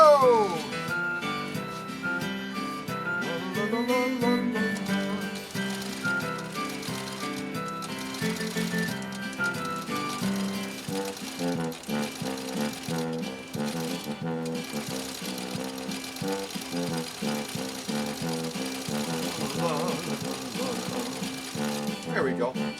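A century-old Singer 66-1 sewing machine stitches steadily up close, its rapid mechanical clatter running continuously for the whole stretch with slight shifts in pace, with no voices.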